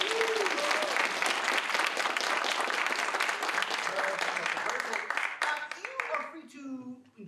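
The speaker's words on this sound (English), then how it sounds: "Let's go ahead and give them a round of applause." An audience at an adult theatre school showcase breaks into sustained, dense applause that fills the room, then thins out as voices rise near the end.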